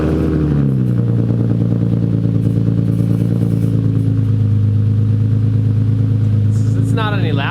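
An Infiniti G37 fitted with a Tomei exhaust idles with a deep, steady drone that rises into a rev and then settles, close and loud, with voices talking over the engine.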